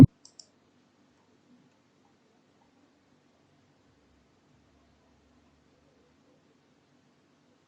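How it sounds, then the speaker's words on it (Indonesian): A single crisp computer mouse click on a save button, close and distinct at the very start, followed by two faint ticks and then near silence with a low steady hum. "Kemudian klik tombol simpan."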